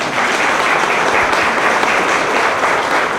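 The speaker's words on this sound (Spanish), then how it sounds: "Otro aplauso más fuerte" Loud, dense audience applause fills a conversation-forum hall, a steady wash of clapping sustained at full strength from start to finish.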